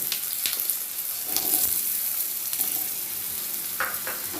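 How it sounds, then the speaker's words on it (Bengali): Steady hot-oil sizzle of cut potatoes frying after a cumin tempering, a dense crackling hiss throughout with occasional louder pops and a few stirring scrapes, close by. "দিয়ে দেবো কেটে রাখা আলুটা"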